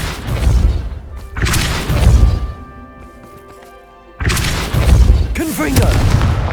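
Depulso force-push spell impacts in Hogwarts Legacy, loud booming bursts at the start and again near the end, with a quieter tonal lull between them.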